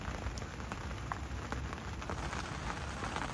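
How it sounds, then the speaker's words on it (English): Steady rain falls outdoors at a fishing lake, a close, even hiss of drops pattering on surfaces with scattered louder taps and no talking. "Hopefully only one more hour of this rain."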